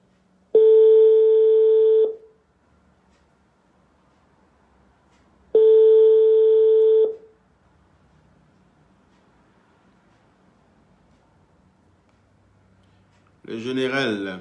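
Two long, steady telephone tones sound during a call to someone that does not connect, each lasting about a second and a half with a pause between, over a quiet line. A brief voice follows at the end.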